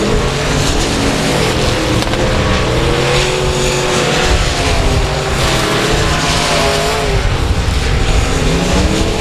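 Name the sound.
race cars on the final lap at South Texas Speedway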